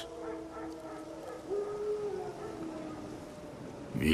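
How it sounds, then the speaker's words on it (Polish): Wild dogs howl in The Witcher 3: Wild Hunt, a drawn-out, wavering wail rising and falling at mid distance over low game ambience, with a louder burst right at the end. "Wilki? Chociaż nie. Dzikie psy."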